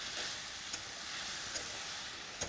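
Tomatoes sizzle in a hot pan as they are stirred, a soft, even frying hiss marked by a few light scrapes of the spoon.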